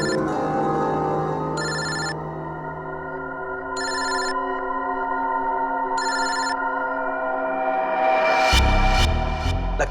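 A telephone rings repeatedly in evenly spaced bursts over sustained tonal background music, which swells near the end.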